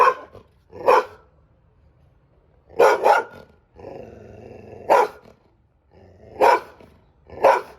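A dog barks in sharp, separate bursts, about five or six, with pauses between them and a low growl in one gap.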